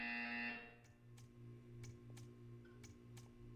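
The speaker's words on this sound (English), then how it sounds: "When you hear the buzzer, stare at the art." Buzzer in the video game Portal 2: a bright, harsh electronic tone blares for about half a second at the start, then cuts off, leaving a steady low hum and a few evenly spaced soft ticks.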